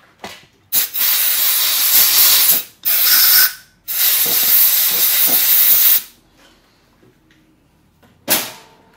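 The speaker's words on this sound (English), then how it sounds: "Take a little air and blow it off a little." Compressed air blows off a machined hammer part on a mini lathe in several loud hissing bursts of one to two seconds each, with brief pauses between them and one final short blast.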